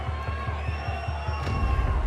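Ringside crowd at a boxing event with Oleksandr Usyk, a dense, distant roar of shouting voices with rhythmic low thumps running through it.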